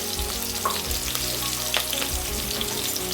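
Onion and crushed garlic frying in a pan while being stirred: a continuous hot sizzle with a few soft scrapes and knocks of the spoon, close and fairly loud, no voices.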